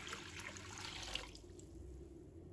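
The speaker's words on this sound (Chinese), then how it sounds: "再往锅中倒入清水" Clean water is poured into a pot holding sliced ginger, a soft, faint splashing pour that fades out partway through.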